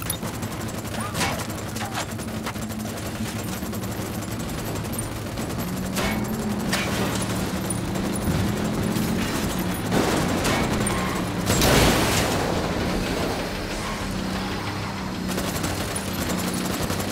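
Sustained gunfire in the tactical shooter video game Ghost Recon Wildlands, dense overlapping automatic bursts and booms throughout, loud and continuous, with voices speaking underneath.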